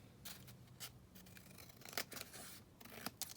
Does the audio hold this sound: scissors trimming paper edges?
yes